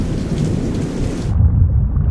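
Thunder from a lightning bolt, heard as a loud, deep rolling rumble mixed with the hiss of heavy rain, close and continuous throughout.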